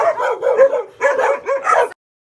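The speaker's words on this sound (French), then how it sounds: "Il y a plein de nouveaux chiens." Dogs at an animal shelter in Marrakech bark and yip close by in quick bursts, a run of barks, a short pause, then a few more before falling silent.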